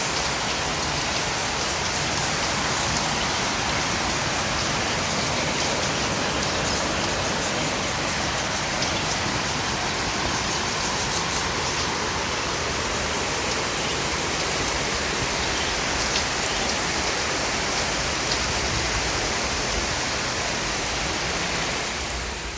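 Rain falling on a balcony, a dense, steady hiss of drops hitting surfaces that stays loud and unbroken throughout, with no voices.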